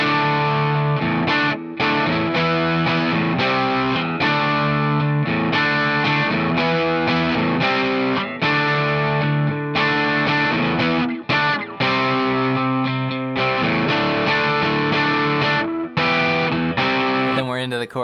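Distorted electric guitar plays a chugging power-chord pre-chorus, loud and steady with rhythmic palm-muted pulses throughout, no voice over it.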